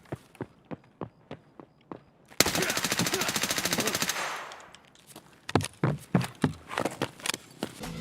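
Close-quarters gunfight in Escape From Tarkov: a sharp rapid burst of automatic fire lasting about two seconds, set between rhythmic footsteps and single loud shots, with movement sounds resuming after the burst.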